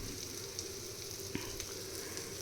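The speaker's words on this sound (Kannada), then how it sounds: "ಇದು ಒಗ್ಗರಣೆ ಹಾಕ್ತಾಯಿದ್ದೀನಿ" Oggarane spices crackle in hot oil in a steady, dense sizzle, quiet and continuous, with a few tiny pops and a small knock partway through.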